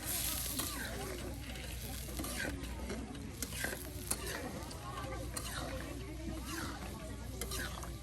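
A bhuna meat curry being stirred in a pot, with a steady scraping and sizzling texture that runs continuously and fairly loud throughout, without clear speech.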